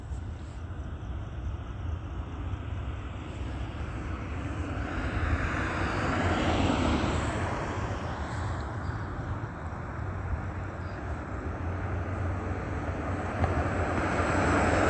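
A fixed-wing airplane flying at very high altitude, not visible overhead, gives a steady distant drone that rises slightly midway and holds continuously for the whole stretch with no talk.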